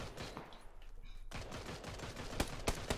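Gunfire in the video game Battlegrounds, a series of sharp, loud reports in irregular bursts with a brief lull midway and a couple of heavier shots near the end.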